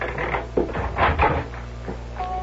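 A radio drama effect of a door opening: a few wooden knocks and a creak, followed by a soft latch click and a faint thud, heard close against a steady low hum.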